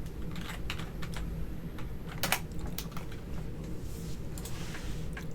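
Typing on a computer keyboard, a dense patter of clicky keystrokes in irregular bursts with a few sharper louder taps, close and alone with no talking.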